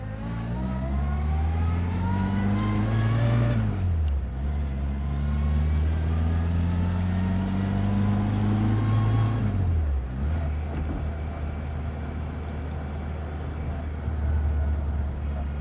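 A 1960 Bugeye Sprite drives off with its small engine revving up close and loud, climbing in pitch through each gear. The pitch drops briefly at two shifts before the engine pulls steadily again.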